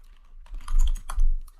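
A few keystrokes tap on a computer keyboard in two short clusters, close and fairly crisp, with no other sound.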